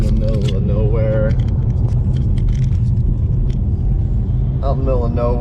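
Car interior road noise from a BMW M4 with catless downpipes and a VRSF exhaust, cruising rural roads near Palm Bay, Florida: a steady low engine and tyre rumble that runs the whole time under a person talking.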